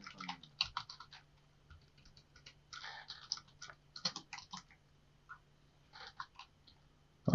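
Rapid clicky keystrokes on a computer keyboard while typing HTML code, close and fairly quiet, coming in irregular bursts with short pauses between them.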